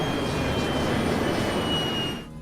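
An aircraft engine runs at idle with a steady, loud broadband roar that holds evenly and then cuts off abruptly just before the end.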